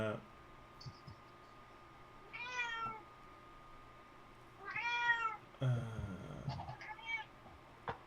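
A cat sound effect plays during a tabletop game session and meows several times in clear, drawn-out calls. Each meow rises and falls, and quiet background noise sits between them.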